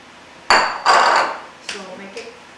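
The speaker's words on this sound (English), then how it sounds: "So make it all stirred all together" A utensil stirs grated cheese into a chicken cordon bleu dip in a dish. It gives a few sharp, close clinks and scrapes: two strong strokes, then two fainter ones.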